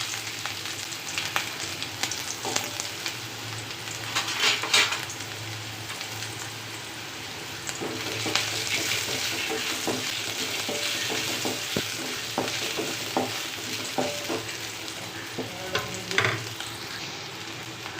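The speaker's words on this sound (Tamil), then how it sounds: "நம்ம வெட்டி வச்ச இஞ்சியை நல்லா வதக்கிக்கலாம்." Chopped ginger sautéing in oil for a ginger curry, continuous close sizzling with repeated stirring scrapes and clicks of a spoon against the pan, no talking.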